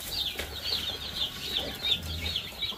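Chickens being fed grasshoppers cluck and chirp in a steady, close run of soft calls over a low rustling background, with no talking.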